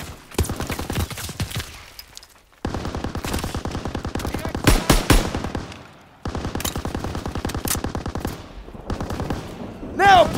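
Sustained machine gun fire in a Call of Duty WWII battle on Hill 493, loud rapid bursts in several long runs separated by brief gaps, with a whistling sound near the end.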